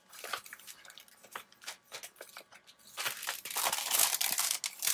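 Crinkly mail packaging being opened by hand, a close run of sharp crackling and rustling bursts that grow denser and louder toward the end, with no talking.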